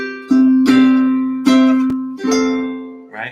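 Four bright strummed chords on a ukulele, each ringing out before the next, close and clear, ending with a short muted strum.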